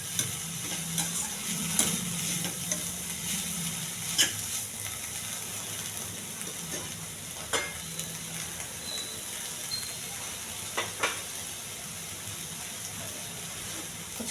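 Food fries in a pan while a utensil stirs it, steady sizzling under occasional sharp scrapes and taps, close up and moderately quiet, with no speech.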